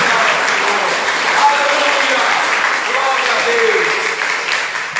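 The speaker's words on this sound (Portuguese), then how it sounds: "Você dê um aplauso a Jesus esta noite." A church congregation applauds Jesus during a service, loud continuous clapping from a packed room, sustained throughout with a voice faintly over it.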